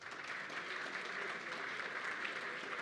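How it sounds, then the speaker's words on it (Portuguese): Applause at a Brazilian real estate industry conference as CBIC president Renato Correia is welcomed to the stage: sustained, even clapping from a seated audience, moderately distant and soft. "a quem eu peço uma salva de palmas"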